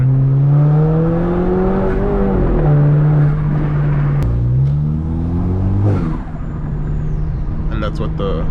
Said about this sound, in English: And that's what the blow-off valve sounds like.